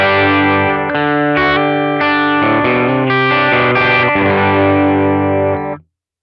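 An electric guitar runs through a Kemper Liquid Profile with the gain turned down, playing loud sustained chords and notes with a slightly driven, chorus-like tone for about six seconds before stopping abruptly.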